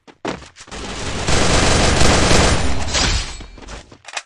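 Shotgun blasts in a video game crack in a dense burst of gunfire, a few sharp reports first, then a sustained loud barrage that fades out over a few seconds.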